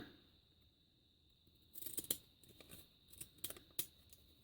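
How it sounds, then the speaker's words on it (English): A run of quick, crisp snips as small decal scissors cut through paper, close up, in uneven bursts after a quiet start. "now you just need to snip them apart. So I'm using the decal scissors again."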